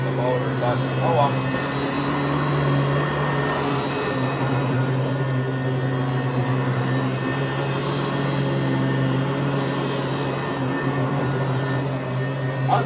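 A Sanitaire SC888 upright vacuum runs continuously over carpet with a steady motor drone and airy whine, while someone talks over it throughout.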